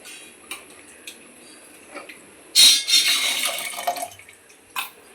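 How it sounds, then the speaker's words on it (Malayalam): Tamarind water pours in a brief splashy burst into a pot, with faint clinks and drips before and after; no voices. "പുളി കഴിഞ്ഞിട്ട് ഇതിലേക്ക് ഒഴിക്കാം."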